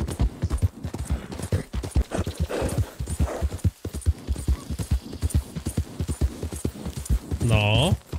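Hooves clip-clop in a brisk, even rhythm as a horse is ridden in a video game, and a short whinny comes near the end, all beneath steady talking.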